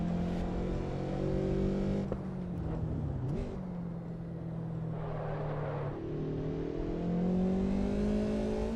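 A BMW E30 engine in the racing game Assetto Corsa Evo drones and revs as the car is driven, pitch dipping and climbing through shifts, with brief tyre and impact noises.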